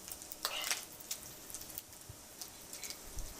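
Bacon with nuts and dried fruit fries in a pan, giving a soft, steady sizzle with light crackles and occasional scraping stirs, fairly quiet and without speech.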